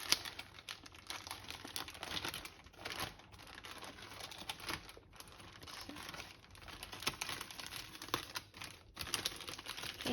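Plastic bag crinkling and rustling close up as a hand, gloved in the bag, presses a cookie base into a cheesecake mold, irregular soft crackles and crumples throughout with no talking.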